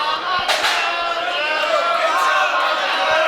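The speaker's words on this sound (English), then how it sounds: "And you hear the crowd here in the Bronx" Wrestling crowd in an arena in the Bronx roars in a broad continuous wash during a mixed tag match, with a few thumps and shouts on top and an announcer talking over it.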